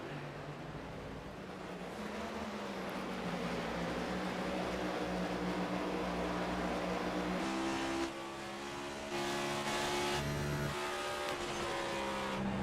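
Super Late Model race cars roar around the New Smyrna oval, a continuous loud engine drone with shifting pitch as the pack passes, swelling and easing through the backstretch without any talk.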